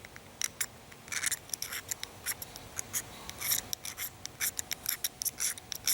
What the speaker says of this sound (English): We'll scrape some more magnesium.